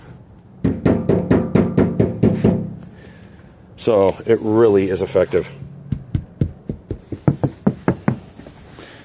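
Knuckles knock on a door fitted with sound dampening, two close runs of rapid dull raps with a person talking between them.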